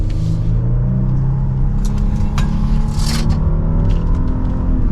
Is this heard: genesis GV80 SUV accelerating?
yes